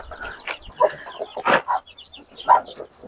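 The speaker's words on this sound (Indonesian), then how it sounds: "Ini kita kasih makan ya untuk anak ayam" Close-up chirping and clucking of free-range village chicks being fed, short bursts of peeping scattered over a few seconds with quiet gaps between.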